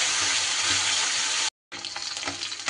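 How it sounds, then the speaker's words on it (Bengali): Small fish frying in hot oil in a pan, a steady loud crackling sizzle with a brief cut partway through, then resuming. "মাছগুলো ভেজে নিতে হবে।"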